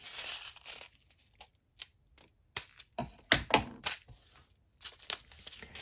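Excess vellum paper pieces trimmed off a shaker pocket with close scissor snips and paper rustles, a few sharp cuts clustered in the middle between quiet gaps.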